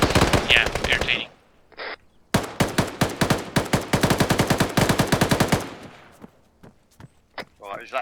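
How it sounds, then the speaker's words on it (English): Video game gunfire bursts in rapid, evenly spaced volleys at close range, preceded by a short burst and a pause, then trailing off into quieter sounds as a voice speaks near the end. "is that enemy fire?"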